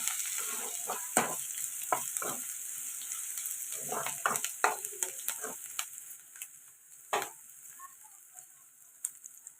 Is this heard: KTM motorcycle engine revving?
no